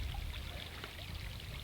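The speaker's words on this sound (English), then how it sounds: "We also do have a little bit of runoff from that channel there" Runoff water from a swale channel near animal pens flowing steadily, a close, continuous trickling gurgle with no pauses and no voices.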